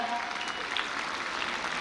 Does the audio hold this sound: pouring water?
no